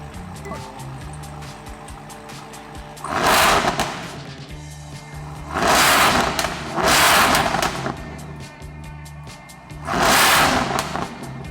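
A C8 Corvette engine fitted with a ProCharger P1X supercharger revs in repeated loud bursts, three or four surges rising over a steady idle, heard close by with no talking.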